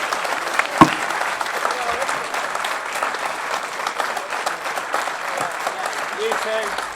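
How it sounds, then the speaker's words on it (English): Big round of applause from the audience at a fishing lure contest final, sustained crowd clapping that fills the whole stretch, with a sharp knock early on and faint voices mixed underneath. "We'll have a big round of applause."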